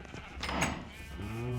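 A Minecraft sheep on a farm gives a short wavering bleat. It sounds moderately close and stands alone over a faint background.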